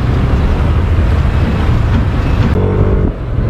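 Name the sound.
inline-four motorcycle engine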